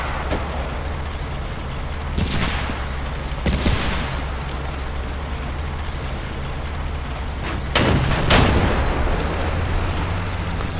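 Gunfire strikes a building in the wargame Combat Mission, set during the Market Garden campaign, heard as a steady rumbling bed of battle noise with several sharp bursts and booms, the strongest cracks near the end.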